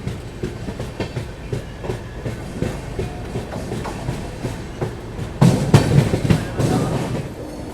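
Wheels clatter in a steady clickety-clack inside a 3AC coach of the Kashi Vishwanath Express from Delhi to Lucknow as it nears Rampur railway station, with the rumble growing louder and heavier near the end.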